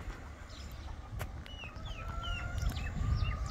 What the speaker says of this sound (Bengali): এখানকার মুরগিগুলো একদম বাংলাদেশের মতো মুরগিগুলো দেখছেন কিনা